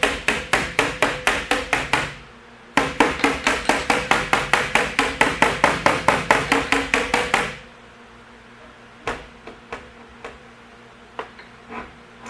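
Rapid, regular metallic hammer blows on sheet metal to work out a dent, in quick bursts, then a pause and a longer run of steady strikes, followed by a few scattered taps.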